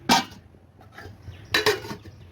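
A lid set onto a pot of golden broiler chicken pulao: one sharp metal clank, a quiet pause with a light rattle, then a second, double clatter as the lid settles, close-up.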